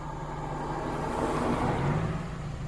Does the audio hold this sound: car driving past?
yes